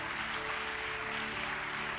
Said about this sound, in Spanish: Yo aplaudiría eso grande